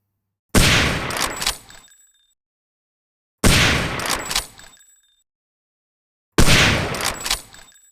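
Three separate bursts of rapid gunfire from a firearm on a training range in the Hidden & Dangerous video game, each sharp, loud, rattling volley lasting about a second and a half before cutting to silence.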